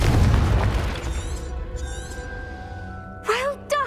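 A fire spell explodes in the Hogwarts Legacy video game with a deep, rumbling boom that decays slowly into a lingering hum. Brief voice bursts from the game follow near the end.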